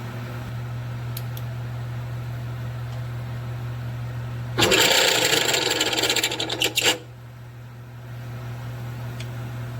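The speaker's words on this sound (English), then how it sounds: "let me demonstrate that the shaft is spinning and the pulley isn't" A Sheldon lathe underdrive shaft spins inside a stationary pulley, a steady low motor hum broken midway by a brief harsh scraping, rattling burst lasting about two seconds.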